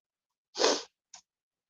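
A single sharp sneeze from allergies, close and clear in a quiet room, followed by a brief sniff.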